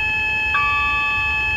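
A warning alarm beeps in a train cab in Train Simulator 2014, a loud steady electronic tone with rapid pulsing and a brief added chirp partway through, with no speech over it.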